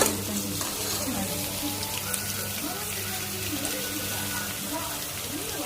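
Onions hitting hot oil in a home kitchen pan give a steady, close sizzle and hiss with faint stirring clatter throughout, continuous and fairly quiet.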